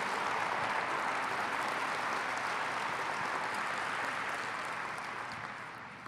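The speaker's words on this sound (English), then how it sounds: "So can we give all the students a big round of applause for being here?" An audience at a port gathering gives students a big round of applause, a sustained, dense wash of clapping that holds steady for several seconds before slowly fading at the end.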